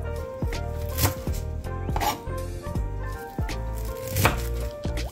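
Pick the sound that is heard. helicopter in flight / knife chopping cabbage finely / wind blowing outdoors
knife chopping cabbage finely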